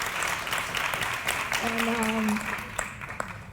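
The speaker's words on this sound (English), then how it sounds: "worth a warm round of applause" Applause from an audience with brief speech and a tonal sound over it, lasting a few seconds before tapering off.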